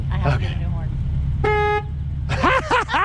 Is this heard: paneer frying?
no